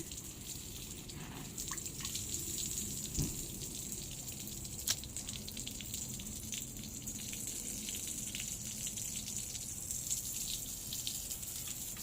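Water sprays and splashes continuously from a shower at a steady level, a hissing rush with occasional drips and small knocks, no voices.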